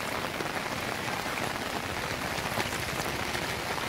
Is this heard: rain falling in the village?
yes